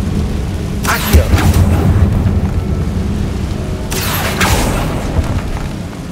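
Two deep booming blasts from the Confringo fire spell in Hogwarts Legacy, each a sudden burst with a rumbling tail, the first about a second in and the second near four seconds, over a dense low game rumble.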